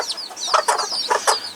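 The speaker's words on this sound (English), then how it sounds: "cluckety cluck cluck cluck" Chickens clucking and chirping close by, a few short bursts of hen calls over a thin high peeping of chicks.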